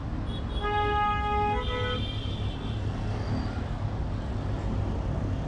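Vehicle horns toot over the steady roar of a road traffic jam heard from a motorbike, with several overlapping honks early on and then a continuous rumble of engines.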